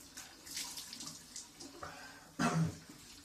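Tap water running into a sink during ablution (wudu) while washing the face, a soft steady splash with a brief louder gush near the end, close by and with no talk.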